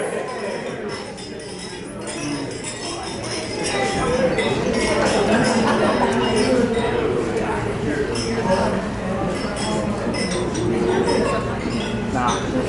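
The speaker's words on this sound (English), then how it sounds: "if you could just raise your glass and just cheers to Mr. and Mrs. John and Eden Mark" Wedding guests clinking glasses in a toast, many light chinks scattered through a loud hubbub of crowd chatter that swells midway through.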